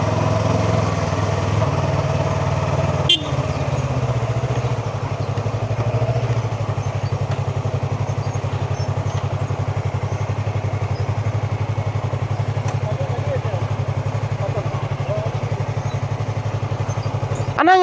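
A motorcycle engine rumbles steadily and loudly up close while riding along a forest track, a continuous low throb with a brief knock near the start and faint clatter throughout.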